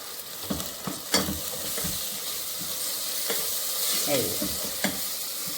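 Mint and spices sizzle in hot oil as a tempering for mutton curry, giving a steady, close hiss broken by several stirring scrapes and soft knocks.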